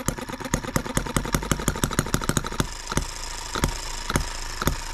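An old H73 small engine with a carburetor adjusting itself runs steadily up close, its rapid pulsing beat loud and irregular, then slowing and steadying toward the end, with no talk over it.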